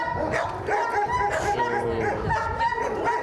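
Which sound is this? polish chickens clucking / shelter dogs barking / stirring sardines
shelter dogs barking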